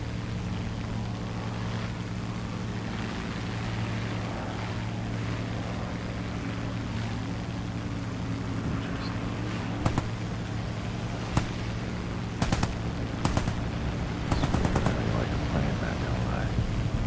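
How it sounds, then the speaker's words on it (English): Yak 3 and Spitfire fighter planes dogfighting in the video game War Thunder, a constant droning engine roar with bursts of machine-gun fire cracking through in the second half, and a voice talking over the action. "we're gonna see how good the Yak 3 is in a dogfight against a Spitfire"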